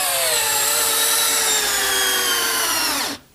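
A Bosch brushless drill set to speed two drives a timber lock screw into wood, a loud, steady whine that slowly drops in pitch as the screw seats, then cuts off abruptly.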